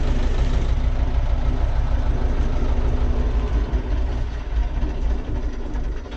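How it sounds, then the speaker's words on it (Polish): A tractor engine idles steadily, a constant low diesel rumble that holds without change throughout. "Wyłączę jeszcze ciągnik"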